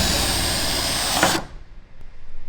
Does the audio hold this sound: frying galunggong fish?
no